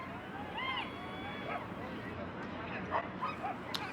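A mixed-breed dog barks and yips in short bursts while running an agility course at a national competition, the calls fairly distant and mixed with crowd and arena noise, with a commentator talking over it.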